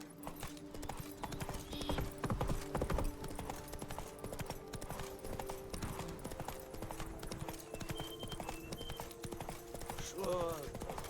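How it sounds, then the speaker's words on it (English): A horse gallops steadily in The Witcher 3 video game, its hooves clip-clopping in a fast, continuous rhythm up close, with game music and ambience underneath and a brief whinny near the end. "Run, Roach."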